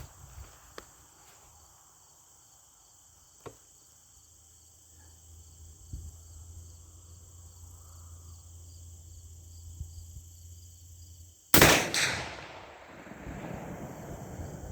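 A single sharp, loud report from a case-hardened Henry 45-70 lever-action rifle at a 100-yard range bursts out near the end with a trailing echo, after long quiet stretches of steady cricket chirping.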